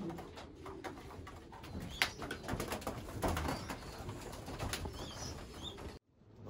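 Homing pigeons coo inside the loft at evening feeding time, a close, continuous layer of soft cooing and rustling that stops abruptly near the end.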